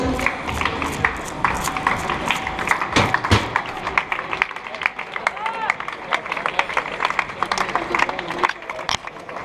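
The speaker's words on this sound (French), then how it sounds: "Allez, on peut les applaudir." A crowd applauds and cheers finishing runners at the end of a 100 km mountain ultra-trail, with dense clapping and lively babble throughout, then an announcer's voice over the noise.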